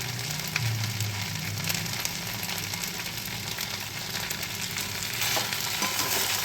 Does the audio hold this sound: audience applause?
no